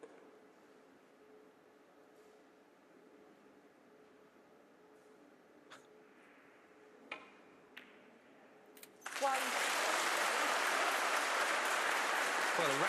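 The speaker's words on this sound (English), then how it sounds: "a rapturous round of applause for that pot" Sudden loud burst of crowd applause after a pot at a live professional snooker match between Ding Junhui and Chris Wakelin at the Wuhan Open, following a quiet arena with faint ticks and murmurs.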